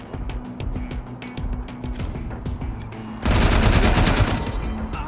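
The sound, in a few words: gunfire from a weapon in Wasteland 3 video game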